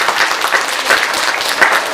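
Congregation at a Christmas thanksgiving church service applauding steadily, a dense sustained patter of many hands filling the room with no speech over it.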